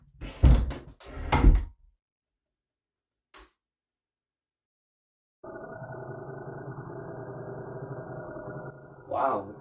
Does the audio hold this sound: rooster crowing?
no